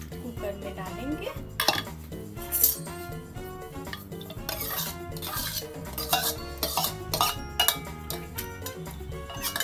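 Soaked, rinsed dal goes into a pressure cooker with a series of close metallic clinks and knocks from the pot and a utensil, irregular light clattering throughout, some of it sharp and bright.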